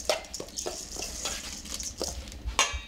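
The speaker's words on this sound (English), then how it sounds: "Give it a stir." Parboiled rice filling stirred in a metal pot, a series of irregular scrapes and clinks from the spoon against the pot, with a faint sizzle underneath.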